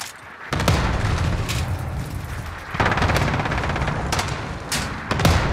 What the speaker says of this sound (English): they're shooting me from the garage, man